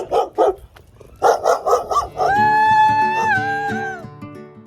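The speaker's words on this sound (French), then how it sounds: "J'ai été déconcentrée par des chiens." Dogs barking in a short run of several sharp barks, then a sustained higher whine or howl, fairly close and loud, with no talk over them.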